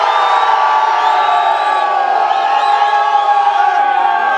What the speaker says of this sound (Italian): Se invece vi è piaciuto di più Prisma, fate rumore adesso.